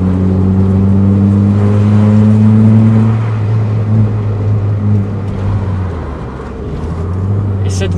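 Peugeot 106 S16 engine droning on a Japanese mountain touge road near Osaka, a loud sustained hum that holds steady, then eases off and builds again, with some road and wind noise around it.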